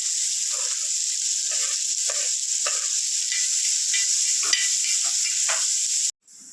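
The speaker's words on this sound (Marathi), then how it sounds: "एखाद मिनिटभर मिरचीला आपण छान तरी फ्राय करून घेऊया आणि मग आपण कांदा टाकूया" Green chilies sizzle steadily in hot oil in a pan, with intermittent spoon stirs and scrapes, then a louder burst as chopped onion drops in, followed by a brief hush.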